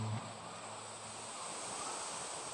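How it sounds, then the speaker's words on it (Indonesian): Strong ocean surf at Batukaras beach in Indonesia, a continuous loud roar of breaking waves mixed with wind buffeting the microphone, with no voices. "ombaknya yang sangat kencang sekali ya"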